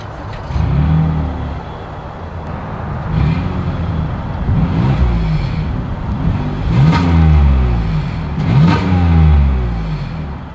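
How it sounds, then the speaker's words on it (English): A 2022 Toyota Highlander XSE AWD engine revs repeatedly through its exhaust, several rising bursts of throttle climbing and falling back over a steady idle, close and loud with no talking. "here is that exhaust clip"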